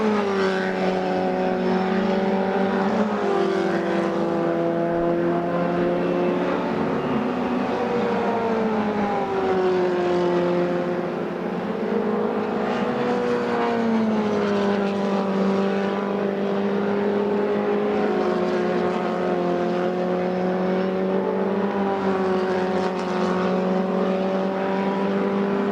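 An MRF Challenge single-seater race car, out in free practice, screams loudly and continuously through a flying lap. Its engine note climbs and drops with repeated upshifts and downshifts as it brakes for corners and accelerates out of them.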